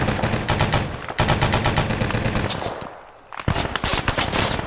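Rapid bursts of machine gun fire in a military-style combat video game, loud and close, with dense repeated shots, a brief lull, then another sustained burst.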